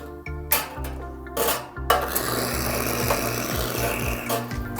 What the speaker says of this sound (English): Let's rinse the shot glass a little